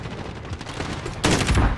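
Rapid bursts of gunfire in Call of Duty: Modern Warfare crackle and rattle, growing suddenly louder and denser toward the end.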